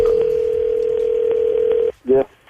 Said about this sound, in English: Today's phone tap with Danielle.